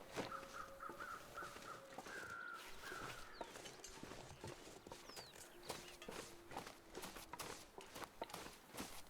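Crows in a video game give several short caws, with footsteps and clopping sounds underneath, all fairly faint against a noisy outdoor background.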